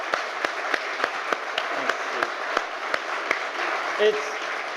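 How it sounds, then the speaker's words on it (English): An audience at Brooklands applauds three-time world champion motorcycle racer Freddie Spencer with a steady wash of clapping. A few sharp individual claps stand out regularly above it, at moderate volume from a short distance. "another big round of applause. 3 times world champion, Freddie Spencer, ladies and gentlemen"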